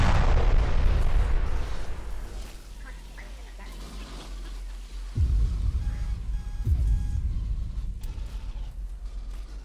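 A grenade in SS13 Colonial Marines goes off with a loud, deep blast, followed by further booming impacts and rumbling combat noise, with a voice talking over it.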